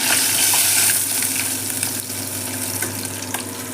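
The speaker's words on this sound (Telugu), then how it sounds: "ఈ విధంగానే మిగిలిన పీసులన్నీ కూడా మనము ఫ్రై చేసుకోవాలి." Apollo fish pieces sizzle steadily in hot oil, a loud continuous frying hiss with faint crackles and pops throughout, heard close up with no talking.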